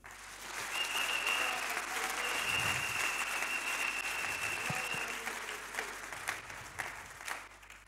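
A church congregation applauding together, a sustained wash of clapping that swells quickly and holds steady for several seconds before gradually thinning out, heard at a moderate distance with no talking over it.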